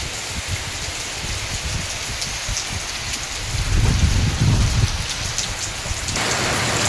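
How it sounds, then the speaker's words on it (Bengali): Heavy rain pours steadily in Malaysia after a hot spell, a dense continuous hiss on surfaces with a brief louder surge of low rumble midway, no voices. "আরও জোরে হচ্ছে বন্ধুরা বৃষ্টি"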